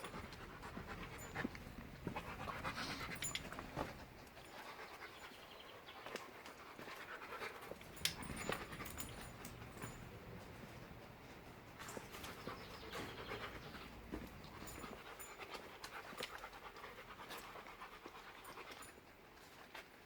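A leashed dog pants steadily in quick, rhythmic breaths, close by, over a busy outdoor background with many other dogs, scuffling and movement throughout, in Brittany.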